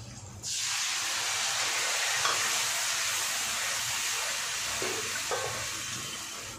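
Potatoes hit hot oil and a loud, even sizzle starts almost at once, hissing steadily as spices are added, with a couple of faint clinks from a utensil.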